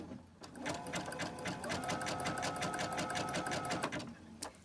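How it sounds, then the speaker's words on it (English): A sewing machine runs a zigzag stitch while sewing a small sachet bag, a close, rapid, even run of needle strokes that starts up, holds for several seconds and stops, with no voices. "So let's go over here to the sewing machine and I'll show you how I sew this."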